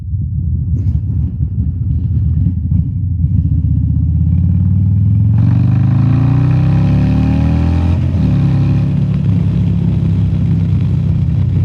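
A motorcycle fitted with a CR483 cam roars close and loud, its engine revving and climbing through gears as it rides, with a deep rumbling exhaust that rises sharply in pitch before settling into a steady pull.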